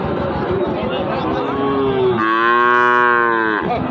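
Native bulls at a busy cattle market, a loud, close, drawn-out low moo that rises into a long harmonic bellow, over crowd chatter and voices.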